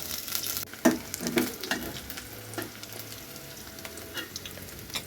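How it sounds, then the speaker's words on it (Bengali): Chopped onion and garlic fry in hot oil with a steady crackling sizzle, broken by several louder scraping clatters as a utensil stirs the pan, close and fairly quiet overall. "দিয়ে দিলাম পেঁয়াজ কুচি আর রসুন কুচি, একটু কষিয়ে নিচ্ছি পেঁয়াজগুলা।"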